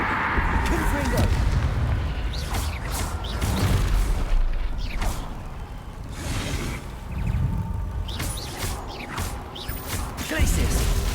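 Repeated booming spell blasts and crashes from combat in Hogwarts Legacy, including the Confringo explosion spell, recurring every couple of seconds over a dense, loud game mix with a voice calling out spell names.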